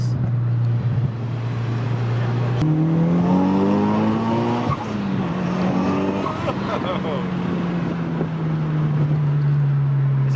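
A big-turbo Mitsubishi Lancer Evolution VII engine revs hard, its pitch climbing and dropping through several loud pulls, with voices talking over the roar.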